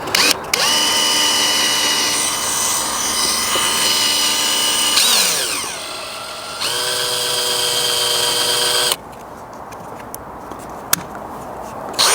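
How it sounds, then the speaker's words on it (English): A power drill with a 3mm bit whines loudly and steadily while drilling into a Land Rover Freelander 2 rear differential, its pitch shifting as it bites in, then stops, leaving quieter scraping and a few sharp clicks. "That's a 3mm drill,"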